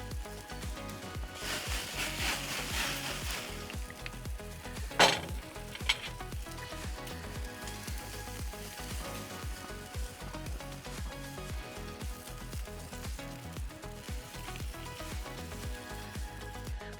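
Steak sizzling steadily in a hot pan, a continuous frying hiss throughout with a couple of brief sharper pops and clinks near the middle as the meat is handled.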